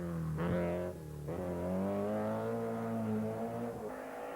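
An Opel rally car engine at the 1983 Monte-Carlo Rally, driven by Guy Fréquelin, drones loud and steady with a rising, sustained pitch, a brief lift and re-acceleration partway through, then continuing to hold revs.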